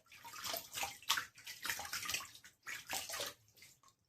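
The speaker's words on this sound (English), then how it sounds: "Now I'm going to put some water on my face." Water splashed onto a face by hand from a basin or sink, several separate splashing bursts in an uneven rhythm, close and fairly quiet, with brief pauses of near silence between them.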